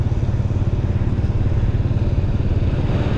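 Dense motorbike traffic on a Vietnamese city street in the days before Tết, a steady, close drone of many small engines with no gaps, some rattle and no voices.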